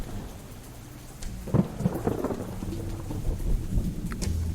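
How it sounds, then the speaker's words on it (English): Thunderstorm in the pirate adventure game Cleo - A Pirate's Tale on Pambo Island, with steady rain under a rolling thunder crash and a lightning strike that cracks into a tree, loud and close, followed by lingering rumble. "The lightning struck directly into this tree."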